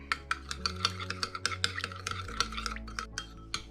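Ajika Georgian spice being mixed into an olive oil marinade in a bowl: rapid rhythmic scraping and clicking strokes of a utensil, close and fairly quiet, running continuously and slowing near the end.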